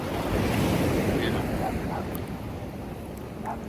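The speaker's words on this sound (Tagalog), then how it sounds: "lakas ng alon dito" Strong ocean surf at an Australian beach: a continuous roar of breaking waves with gusting wind buffeting the microphone, loud and close, with faint voices in the background.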